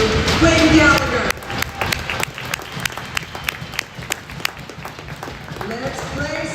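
A hockey rink crowd at a Lightning vs Knights game applauds a senior player, number 22. A loud burst of clapping and cheering opens, then thins into scattered claps and crowd noise with voices in the background.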